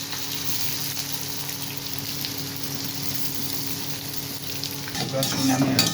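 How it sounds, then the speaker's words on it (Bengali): Chopped onion frying in a pan with cumin and bay leaf, a steady dense sizzle throughout, close and fairly loud, with stirring scrapes growing louder near the end. "পেঁয়াজটা ভাজা হচ্ছে"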